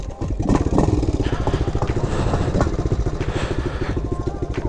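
Kawasaki KLX 110 pit bike running in the cold after starting on choke, a close, rough, uneven single-cylinder putter with a rapid pulsing rhythm and slight clatter.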